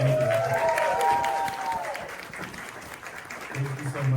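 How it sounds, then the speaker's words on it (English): An audience at a homeowner help desk event in Queens claps, a soft, fairly distant patter of applause running under a voice speaking near the microphone. "Thank you so much for the round of applause."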